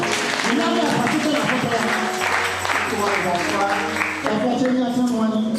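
A church congregation applauding in acclaim of the Lord, a steady dense clapping with voices mixed in that carries on for the whole few seconds.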